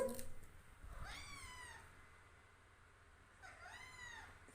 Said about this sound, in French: arrête de me regarder comme ça, de me miauler dessus